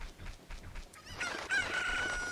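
A chicken in The Legend of Zelda: Ocarina of Time, heard in the HD PC port, gives short clucks and then a rising crow with a sustained high tone that ends loud and clear.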